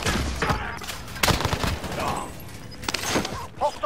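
Dense bursts of automatic gunfire and explosions in Call of Duty on Rebirth Island, loud and continuous with rapid overlapping shots, with a voice briefly speaking amid the fight.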